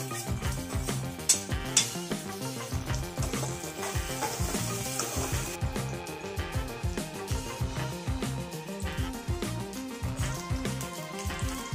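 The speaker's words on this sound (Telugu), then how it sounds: "ఆయిల్ హీట్ అయ్యాక దాంట్లో ఆనియన్ వేసేయండి" Onion, green chilli and curry leaves frying in hot oil give a loud, steady, close sizzle and crackle that continues for the whole stretch, with faint stirring underneath and no voices.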